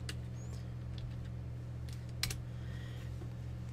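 Light, scattered keystrokes on a computer keyboard typing a search, soft clicks over a steady low fan hum, no voices.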